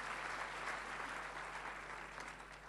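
Brief, steady applause from a church congregation during a sermon, a dense wash of clapping at moderate distance with no voices on top.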